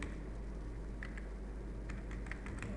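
Keys on a computer keyboard are tapped in a few quick, faint bursts of clicks over a steady low hum, with no talk.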